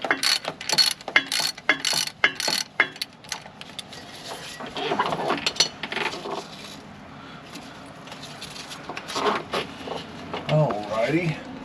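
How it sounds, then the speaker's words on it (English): A cordless ratchet on a race car worked on beside a 50-year-old Winnebago: quick whirring, clicking bursts up close, followed by softer mechanical clatter, with people talking. "Cordless ratchet up top."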